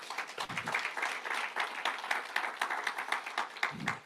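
Steady applause from a church congregation clapping together as an offering to Christ during an anniversary Sunday service, dense and continuous for several seconds with a slight swell near the end.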